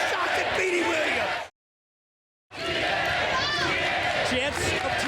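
A standing-room-only crowd at a 2005 TNA wrestling event cheers and yells in a loud, continuous roar, broken by one second of silence, with commentary-like voices mixed in.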